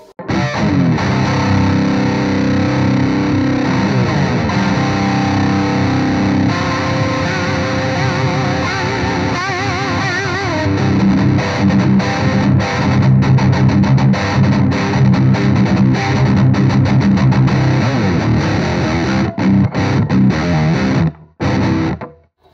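Electric guitar through an H&K Spirit Nano amp on its lower gain setting, loud and distorted, playing continuous chords and riffs before cutting off abruptly near the end.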